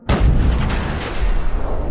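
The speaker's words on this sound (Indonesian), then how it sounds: "Sehingga terjadilah aksi tembakan" Loud bursts of gunfire crack and boom close by, echoing with a heavy rumbling tail.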